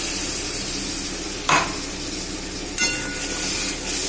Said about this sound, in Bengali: একটু ভালো করে নাড়াচাড়া করব।